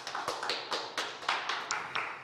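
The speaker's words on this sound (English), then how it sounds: "once again, applause to the winners" A small audience claps for hackathon winners at a cyber security award ceremony, a brief run of distinct, fairly close hand claps with no talk over them.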